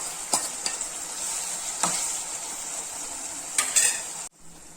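Tomatoes sizzle and fry in a pan with ginger garlic paste for a lotus seed (phool makhana) gravy curry. The frying hiss is close and steady, with sharp spoon scrapes and clinks against the pan, before cutting off abruptly.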